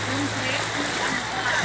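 Floodwater in a flooded residential subdivision in Imus, Cavite, sloshing and splashing in a continuous broadband wash, close and steady with a low hum beneath, while people talk excitedly over it.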